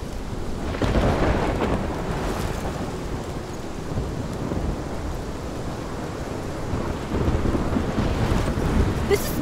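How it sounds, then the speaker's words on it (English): Thunderstorm from the video game Life is Strange: steady heavy rain hiss with deep rumbling thunder rolling through, continuous and loud, with no voices. "This is my storm."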